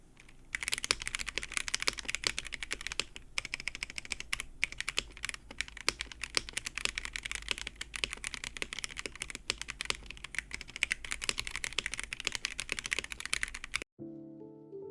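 Typing on a Womier K87 TKL mechanical keyboard with stacked acrylic case and modded stabilizers, a fast continuous stream of close, crisp keystrokes with occasional heavier bar presses, ending abruptly near the close.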